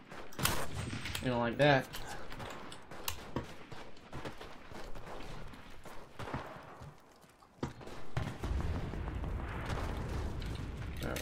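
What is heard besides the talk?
gunfire from the WWII video game Enlisted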